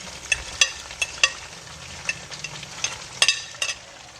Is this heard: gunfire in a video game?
no